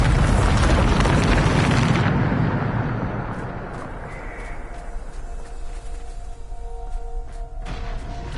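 A Bombarda spell detonates in Hogwarts Legacy with a loud, close, roaring blast that rumbles heavily for about two seconds, then decays into a long crackling, debris-filled tail.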